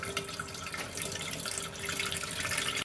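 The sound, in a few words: tap water filling a medium-sized cooking pot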